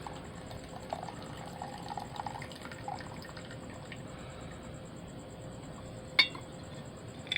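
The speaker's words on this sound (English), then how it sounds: "We're going to pour off this rinse water" Rinse water poured off gold from scrap refining into a silver beaker, a soft continuous trickle of liquid with a faint hiss and one sharp glass clink near the end.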